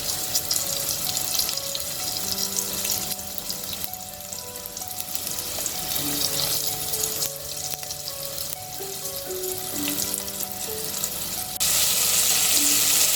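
Beef pieces for a stew fry in a pan, a steady hiss and crackle of sizzling fat running throughout at moderate level, with faint clinks and background hum and no one talking.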